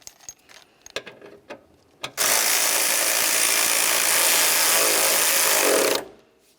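A few light clicks and taps give way to a loud, continuous four-second whir of a power ratchet or impact tool as radiator mounting bolts are run down on a 2001-2005 Ford Explorer Sport Trac, then it stops abruptly.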